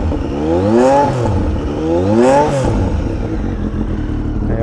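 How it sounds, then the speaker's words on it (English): Triumph Daytona T595 motorcycle engine revved twice in quick succession, each rev rising and falling, then settling into a raucous idle, close and loud. "Let's give it a bit of a rev."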